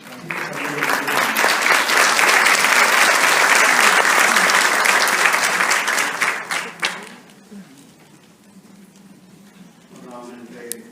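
Welcome applause from an audience at a symposium on the human rights of psychiatric patients, dense and loud for about seven seconds before fading out into quiet, with a brief voice near the end.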